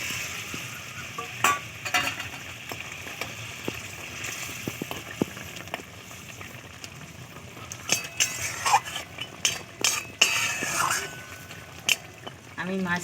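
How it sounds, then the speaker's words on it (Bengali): Fried fish going into a boiling fish curry sauce in a home kitchen. A steady simmering bubble runs under scattered clinks of utensils against the pot, with sharper splashy sizzles toward the end. "চাল খুব ফুটে গেছে, ভেজে রাখা মাছ দিয়ে দেবো।"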